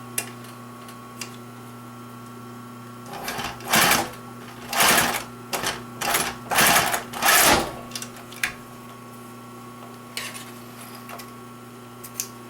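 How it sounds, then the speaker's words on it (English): Sewing machine stitching a gusset collar piece to a bag lining, running in several short bursts of roughly a second each against a steady background hum, with quiet pauses between them. "I'm sewing the gusset collar piece to the gusset lining"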